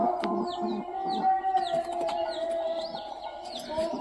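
Pigeons in a coop give repeated soft cooing calls close by, with a few chirps and brief rustles over a steady background hum.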